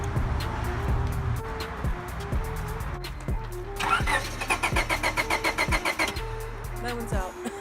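A used car's engine cranks repeatedly without catching, a rhythmic starter whir close by that speeds up into a faster chugging burst before stopping, with no sign of the engine running.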